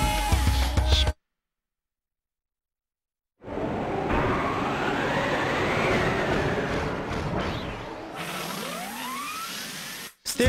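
Train to Station Square in the Sonic Adventure video game, a rumbling, rising mechanical roar that builds after a gap of silence and then shifts in pitch as it fades.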